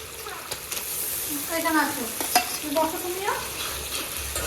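Masala with tomato fries in a pan on the stove, a continuous close sizzle broken by scraping stirs, while a voice talks over the cooking.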